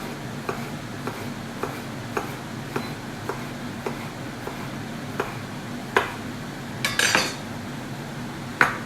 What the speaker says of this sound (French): Alors le poivron, il faut le couper fin